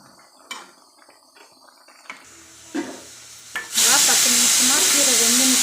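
Drumstick leaves fry in a pan as a stirring spoon makes a few light clinks, then a loud, close sizzle bursts out and hisses on steadily.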